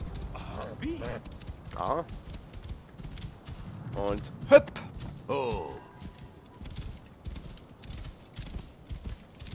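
Horse hooves clop at a steady pace in Assassin's Creed Origins, clear but not loud, while a person talks over them and an animal cry sounds briefly.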